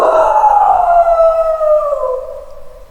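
A narrator imitates a wolf howling in a jungle folk tale, one long sustained wail that slides slowly downward in pitch, loud and close, fading at the end.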